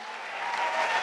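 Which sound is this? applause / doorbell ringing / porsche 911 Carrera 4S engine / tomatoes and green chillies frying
applause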